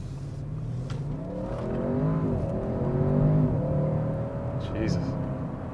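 A car engine revving up through the gears, rising and falling in smooth sweeps with a strong low drone from inside the cabin, a voice talking over the engine noise.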